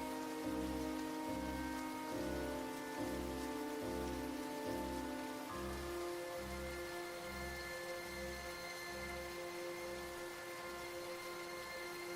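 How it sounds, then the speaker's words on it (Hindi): Steady rain falls throughout, an even wash of patter joined by a low, pulsing rumble and faint sustained tones in the background. "बारिश तो आज भी बंद नहीं हुई।"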